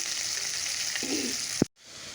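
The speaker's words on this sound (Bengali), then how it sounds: "ছোটো মাছটাকে ভেজে নামিয়ে নিই" Small dried fish fry in a pan with a steady, soft hiss, broken by one brief scrape and a sharp knock near the end, after which the sound cuts out for a moment before resuming.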